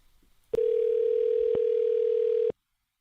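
A telephone dial tone sounds while a number is being called, a steady, loud continuous tone lasting about two seconds, alone with no talk over it, then cutting off abruptly.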